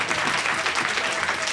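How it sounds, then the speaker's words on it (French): A short burst of clapping from an audience, dense and continuous applause throughout. "des applaudissements encore pour elle"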